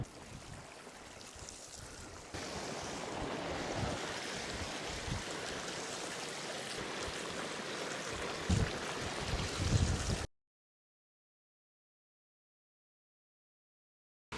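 A Mongolian river flows at a laundry-washing spot, a steady, close rushing and babbling with a few louder splashes, then cutting to silence near the end.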